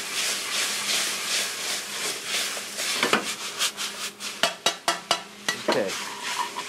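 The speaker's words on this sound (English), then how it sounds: "And then just kind of toss this around. Get it nice and just mix it all up." Shrimp lumpia filling being tossed and stirred in a sauté pan, a steady soft sizzle with a run of sharp clacking scrapes and knocks of the utensil against the pan in the second half, close and alone.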